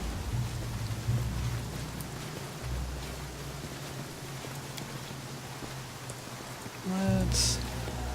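Steady rain and a thunderstorm from the Pathfinder Kingmaker video game: a constant hiss of falling rain over a low rumbling bed, with a louder rumble swelling near the end.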